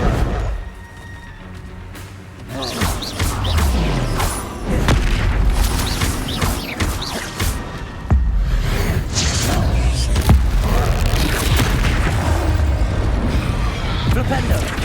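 Explosive booms from the Confringo fire spell in the game Hogwarts Legacy burst repeatedly amid whooshing spell casts and other combat effects, loud and dense, while a player talks over the action.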